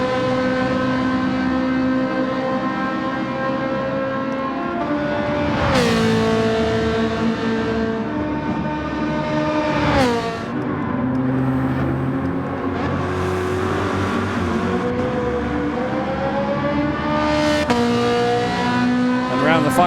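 Ferrari mid-engined race car in Gran Turismo 7: a loud, steady high-revving engine whine that climbs through the gears, with sharp downshift drops and brief tire squeal, under a voice talking over it.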